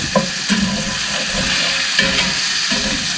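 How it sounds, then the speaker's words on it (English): Mushrooms sautéing quickly in a hot pan give a steady close sizzle and hiss, with a few soft stirring scrapes breaking through. "these mushrooms sauteing up pretty quick now"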